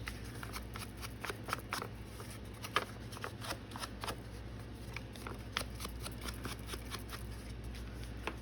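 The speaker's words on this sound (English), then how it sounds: "I love the sound of paper after it's been coffee dyed." Sheets of coffee-dyed paper with inked edges are handled close up, giving crisp, dry crackles and rustles in quick irregular bursts over a low background hum.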